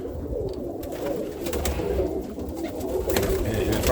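Roller pigeons cooing in a loft, soft repeated low coos forming a continuous murmur from several birds, with occasional rustling and faint background noise.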